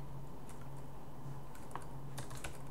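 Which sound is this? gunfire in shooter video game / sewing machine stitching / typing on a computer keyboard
typing on a computer keyboard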